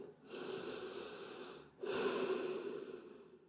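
Two long, slow breaths drawn in through the nose during a yoga lesson, close and clear, separated by a brief pause.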